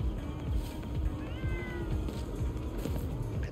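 Cat in Ghostwire Tokyo giving a couple of soft, drawn-out meows around the middle, partly buried under a steady bed of low rumbling game ambience.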